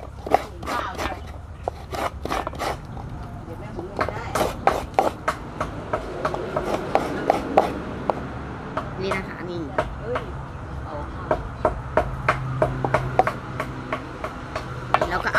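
Coconut being grated the traditional way gives repeated sharp scraping strokes in uneven rhythmic bursts, close and fairly loud, while someone talks between and over them.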